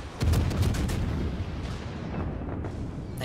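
Warship guns firing armor-piercing shells in a naval battle video game, heavy booming blasts rolling into a loud, dense rumble that slowly tails off.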